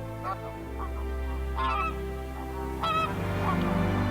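Several birds honk loudly and repeatedly at a lake in the Galápagos where volcanic fresh water meets the sea, the goose-like calls coming in bursts over a steady low background rumble.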